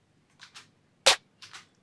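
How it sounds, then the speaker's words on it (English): A clap track from a trap-style beat: one crisp, bright handclap hit in the middle, surrounded by a few softer, breathy noise bursts before and after, with no voices. "And we got another clap track."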